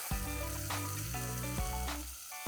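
Wet ground spice paste with black peppercorns and asafoetida sizzles in hot ghee as a tempering for Konkani kokum saar. The frying is close, loud and steady throughout, with no talking.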